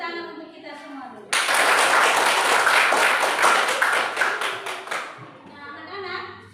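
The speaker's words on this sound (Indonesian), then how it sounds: "mari kita beri tepuk tangan untuk kita semua dulu." Classroom applause from a group of schoolchildren, a sudden loud burst of rapid clapping lasting about four seconds and tapering off, with a teacher's voice before and after.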